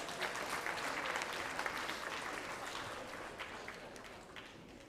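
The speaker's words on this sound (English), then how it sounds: "let's give our superintendents another round of applause." A crowd at a 4-H awards banquet applauds steadily, a dense wash of clapping at moderate distance that holds evenly and tapers slightly at the end.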